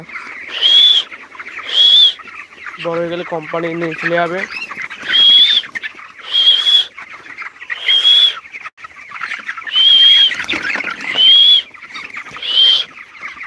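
Chickens in a large poultry farm house cluck and call in a loud, repeated pattern of short bursts, while someone talks over them.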